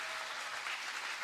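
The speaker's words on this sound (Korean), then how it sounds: "이렇게 또 박수를 치시는군요" A church congregation at a Baptist gathering applauding, a short burst of soft, dense clapping heard from some distance with no voices over it.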